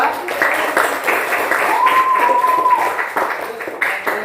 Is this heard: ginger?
no